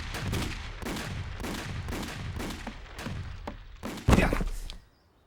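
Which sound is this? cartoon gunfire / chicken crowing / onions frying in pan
cartoon gunfire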